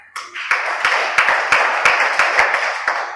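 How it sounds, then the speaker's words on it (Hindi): A seated audience at a Hindi religious discourse claps, producing steady dense applause with sharp individual hand slaps standing out, loud and continuous for about three seconds. "आपने ताली बजा दी तो ठीक है।"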